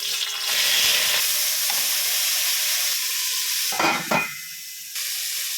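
Cauliflower pieces hit hot oil in a wok and sizzle loudly, a dense steady hiss with a few stirring clatters and bursts of spatter toward the end, no voices.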